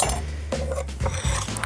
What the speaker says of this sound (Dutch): Ik snij ze in plakjes, dan garen ze ook wat sneller.